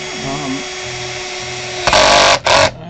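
A power drill whirs in two short loud bursts on an Ibanez GAX50 electric guitar, the second brief, after a moment of quieter handling noise.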